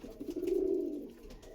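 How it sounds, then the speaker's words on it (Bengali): Pigeon from a breeding pair at a loft gives a single soft, low coo, faint and close, with no voices over it. "খুব ভালো কোয়ালিটির পায়রা"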